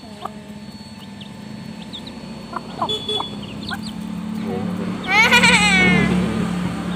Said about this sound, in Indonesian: kasih makan ayam kan nek